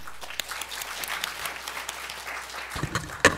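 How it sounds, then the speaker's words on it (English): Audience applause for panel speakers at a higher-education conference, a steady wash of clapping from a hall crowd, moderately distant, with a louder clap or knock near the end. "Let's give another round of applause to all the speakers at this panel."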